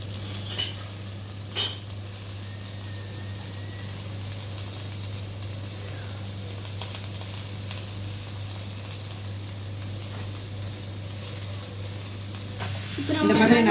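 Onions sauté in a pan on the stove while noodles are being cooked, giving a steady low sizzle under a constant background hum, with a few sharper clatters near the start and more stirring at the end.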